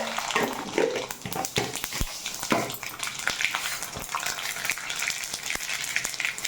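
Mustard seeds crackle and sizzle in hot sesame oil in a pan for pickle making, a dense continuous frying hiss broken by sharp irregular pops, close and steady, with no talk.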